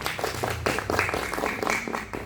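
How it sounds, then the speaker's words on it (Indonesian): A group of pupils in a classroom clap their hands, a brisk uneven burst of close, fairly loud clapping. "Oke, tepuk tangan."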